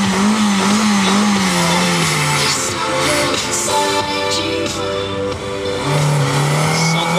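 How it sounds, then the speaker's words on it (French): A Talbot Samba Rally car launches from the start line of a historic hill climb, its engine revving loud and close before the note drops and rises again as it pulls away, with crowd ambience behind. "La Samba Rally est partie."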